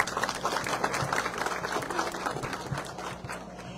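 A crowd applauds at the opening of a municipal obstetric centre, with dense, lively clapping that stays steady and close, then eases slightly toward the end.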